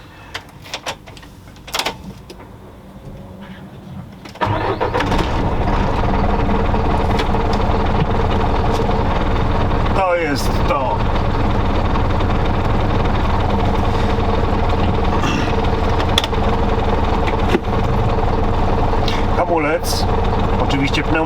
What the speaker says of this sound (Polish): Posłuchajcie pracy silnika.